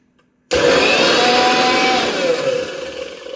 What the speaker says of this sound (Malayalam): മിക്സിയുടെ ജാറിൽ നമ്മൾ അരപ്പിട്ട് വെള്ളം ഒഴിച്ച് അങ്ങോട്ട് അടിക്കാൻ വെക്കുമ്പോൾ